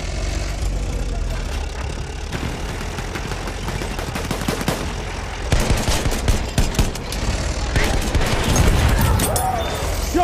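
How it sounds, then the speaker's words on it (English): Machine guns rattle in rapid bursts during a Battlefield 1 multiplayer battle, over a low engine rumble. The fire grows denser and louder in the second half. "Machine gun, one of theirs."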